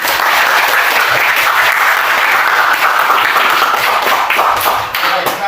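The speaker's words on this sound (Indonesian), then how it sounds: "Oke, beri aplaus." Audience applause at a university student group presentation, a dense, loud, continuous burst of many hands clapping that keeps going without a break throughout.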